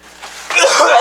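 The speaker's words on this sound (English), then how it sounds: "I need a cough." A single short, harsh cough or throat-clearing burst, close and loud, over about a second.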